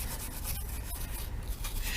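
A brush scrubs loose paint and corrosion off a KTM Duke 125 brake caliper in quick, dry rasping strokes, close and steady.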